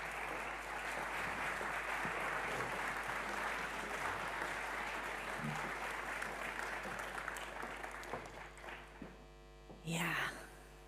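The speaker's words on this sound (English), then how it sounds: "can we give a round of applause for our Sahar Shirzad, Nene, come on up" Audience at a peace and justice talk in The Hague gives sustained applause over a steady mains hum, fading out near the end before a brief loud burst of handling noise.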